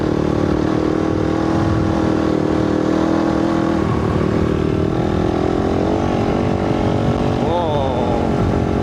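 A motorcycle fitted with a 51-tooth rear sprocket rides through a dismantled old farm in the desert, its engine droning loud and close with shifting pitch and heavy wind rush throughout.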